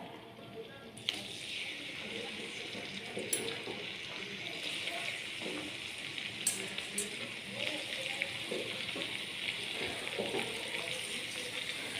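Sliced onion sizzles and fries steadily in hot oil for chilli chicken, a continuous close crackling hiss with occasional sharper pops and faint stirring.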